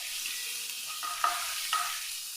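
Ginger and garlic fry in hot oil in a pan, giving a constant, even sizzling hiss with a couple of soft clinks of a utensil, moderately close and without any talking.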